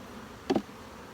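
Honey bees buzz inside a shaker tub, one brief close burst of buzzing over a quiet background.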